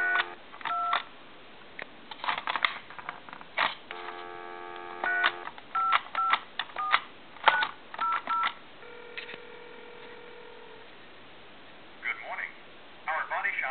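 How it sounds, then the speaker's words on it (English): Touch-tone telephone plugged into a main line dials a time-and-temperature number: bursts of DTMF dialing tones, then ringing and a recorded announcement voice with a repair-shop ad, bandlimited like a phone line. "I'm going to go ahead and dial a time and temp number"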